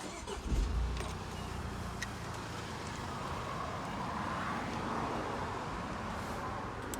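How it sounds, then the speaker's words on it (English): A Land Rover Discovery 5 engine turns over and catches, settling into a steady idle rumble that continues evenly to the end. "Let's go and turn the car on."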